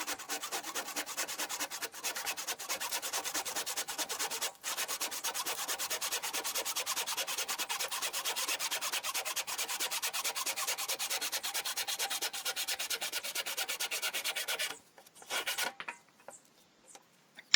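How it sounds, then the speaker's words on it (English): A tenon saw cuts through pallet wood in fast, even strokes, a dry close rasping rhythm that runs steadily for many seconds, then stops with a few scattered light knocks at the end. "So any excess I'm just going to chop off with a tenon saw."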